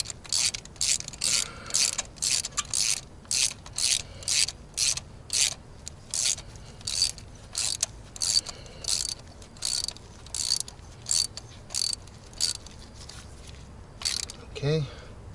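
A ratchet tightens a spark plug on a 2011 Toyota Camry Hybrid, giving a close series of sharp, rhythmic clicking bursts, each stroke separated by a short pause, with a faint voice near the end.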